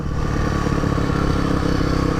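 A Honda CRF motocross bike's engine runs loud and close in a high gear, a steady rough mid-pitched drone with a clattering rattle throughout.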